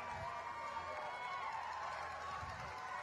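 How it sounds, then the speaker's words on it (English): A crowd at the VEX Worlds 2017 robotics finals cheering wildly, a steady, fairly faint roar of massed voices filling the space without a break. "The Blue Alliance goes wild. The crowd goes wild."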